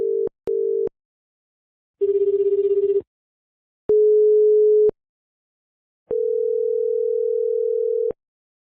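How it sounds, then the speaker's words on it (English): A run of telephone ringtones and call tones from several countries plays one after another: short double tone bursts, a rapid warbling trill, a steady one-second tone and a longer two-second tone, each separated by silence, clean and close. "here's a nice sample of some ringtones from across the world"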